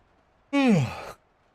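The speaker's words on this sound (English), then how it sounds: "I had a big stretch and a yawn there." One person lets out a single loud, drawn-out yawn while stretching, a voiced breath that slides downward in pitch over about half a second, close to the mic against quiet surroundings.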